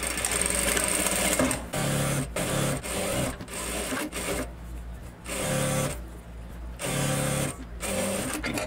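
A sewing machine stitches the side slit hem of a long dress in a series of short, steady bursts separated by brief pauses, close and clear with no talking.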